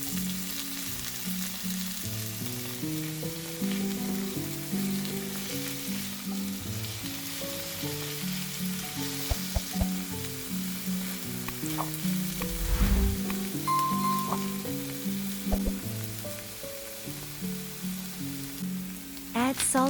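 Tomato and other vegetables frying in a pan, with a continuous close sizzle and occasional stirring taps over steady background music.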